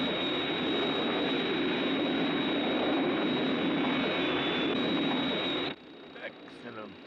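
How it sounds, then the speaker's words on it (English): Aircraft drone from the Thunderbirds TV series, a steady loud engine roar with a high whine that runs on for several seconds, then cuts off abruptly, leaving faint scattered sounds. "Hey, I hear an aircraft."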